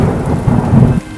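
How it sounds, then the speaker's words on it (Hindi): Heavy rain with thunder in a cartoon scene: a loud, close, steady downpour with deep rumbling thunder rolling underneath, which drops back after about a second to rain alone. "3 दिन बाद अचानक तेज बारिश शुरू हो गई।"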